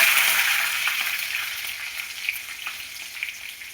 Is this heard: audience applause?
no